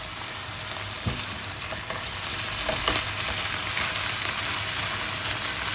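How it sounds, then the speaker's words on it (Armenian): Boiled, salted brisket and onion fry in oil in a pan, a steady close sizzle with a few sharper crackles and stirring clicks, no voices. "Մինչ այստեղ տապակվում են կրծքամիսը և սոխը յուղի մեջ"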